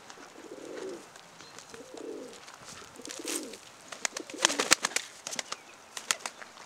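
Tumbler pigeons being fed give soft, low, rounded coos in a slow series close by. Later come sharp pecking clicks and brief wing flutters.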